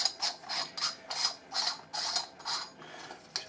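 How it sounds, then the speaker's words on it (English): Threaded lens retainer of a CPF Italia BLF Cometa flashlight being unscrewed by hand, giving a run of about eight short, rhythmic ratcheting clicks and scrapes, close and fairly quiet, with no talking. "you can take the lens retainer off if you wish. So just unscrew it in."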